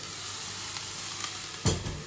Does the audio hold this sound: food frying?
yes